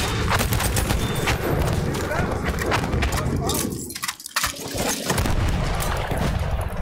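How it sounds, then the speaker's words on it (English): Loud rolling blasts and crackling gunfire fill a video game battle, with a bomb explosion bursting amid the continuous din and a brief dip before the noise resumes at full intensity. "Aha, onlara bir bomba."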